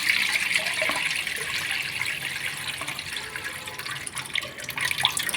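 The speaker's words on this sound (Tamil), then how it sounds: "இந்த தண்ணியை நம்ம வானலில் சேர்த்துக்கலாம்." Rice-washing water is poured into a frying pan for a manathakkali greens broth, a continuous close splashing pour lasting several seconds without talking.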